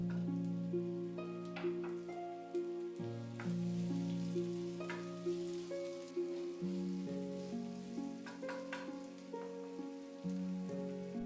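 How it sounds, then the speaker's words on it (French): Something browns in a frying pan with a little oil, a soft, steady sizzle and crackle running under louder background music. "Puis je le fais dorer dans une poêle avec un peu d'huile."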